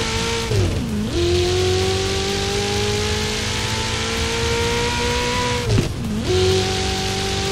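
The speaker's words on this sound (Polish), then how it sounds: "Tak ta furka sobie wygląda. Tak brzmi z zewnątrz." Ferrari Pista heard from outside in Forza Horizon 4, a loud continuous high-revving engine drone with two sharp dips as it shifts or lifts, plus brief tire scrub, no talk.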